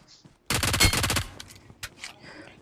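A rapid automatic gunfire burst in the BGMI video game fires close and loud for under a second, followed by a few scattered fainter shots and in-game noises.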